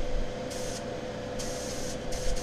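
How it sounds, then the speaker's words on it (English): A bottom siphon airbrush sprays primer onto a 3D printed model, giving a steady close hiss with several brighter bursts of airflow as the trigger is pressed. "This is a bottom siphon airbrush. Spraying it down, getting that primer up."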